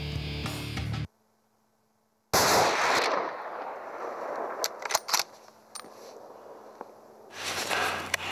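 A gunshot rings out during a hunt in open cliff country, a sharp report followed by a rolling echo, set among outdoor wind noise and faint rustling, with a brief silent gap before it.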